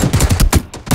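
Rapid automatic gunfire in the battle royale game PUBG, a loud burst of repeated shots in quick rhythm filling the whole second, with no talk over it.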